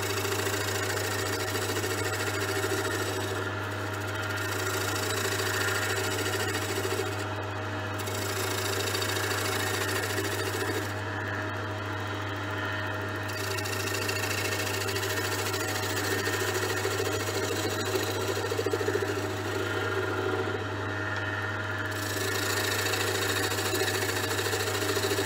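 A wood lathe spins a small wooden bowl while sharp tools cut it, giving a continuous low motor hum with faint scraping, moderately quiet and steady, with occasional brief dips and no voices.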